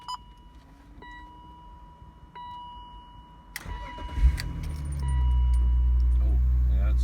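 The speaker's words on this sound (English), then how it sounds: "So I'll just start the car and get it all going." An old BMW Z3 with its key in the ignition: a chime and soft electrical tones, a crank and catch, then the engine settles into a steady close idle.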